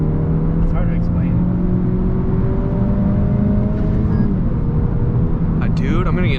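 2020 tenth-generation Honda Civic Si fitted with a PRL Cobra cold air intake, heard from inside as the engine hums and climbs through the revs, with a shift near the end, while people talk over it.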